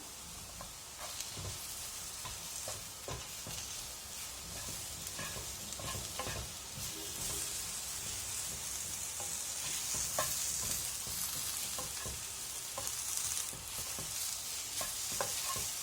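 Mushrooms, about 150 grams, and tomatoes stirred in a frying pan for a mushroom masala curry, with a steady close sizzle and repeated scraping stirs running throughout, no voices.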